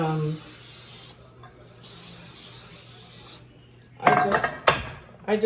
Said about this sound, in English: The glass pan, I just spray it.